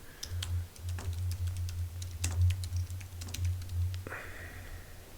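Keys clatter on a computer keyboard in quick, uneven bursts with short pauses, close and fairly clear over a low steady hum, while someone searches for Magic: The Gathering cards.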